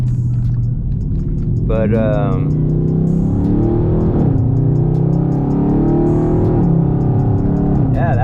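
A Dodge Charger 392 Scat Pack launches with launch control, its V8 roaring loudly and steadily as it accelerates hard and climbs through a couple of gear changes, with a voice speaking briefly over the engine.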